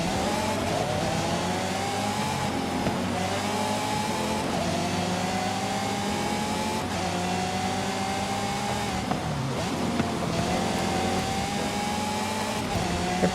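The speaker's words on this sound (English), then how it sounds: "Naturally aspirated V12, 7-speed transmission, and this is not a dual clutch transmission." A Lamborghini Aventador with a naturally aspirated V12 and seven-speed non-dual-clutch transmission drives in Forza Horizon 5, its engine droning loudly and continuously with pitch rising and dropping through gear changes.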